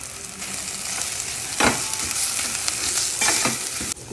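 Pieces of okra fry with spices in an oily pan, a close, steady sizzle broken by a few sharp stirring scrapes, with no voices.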